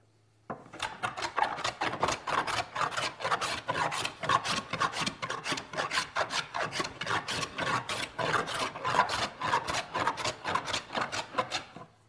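A toothed-blade hand plane works across a wooden piece, producing a rapid, regular series of close rasping strokes that continue steadily for about eleven seconds after a quiet start.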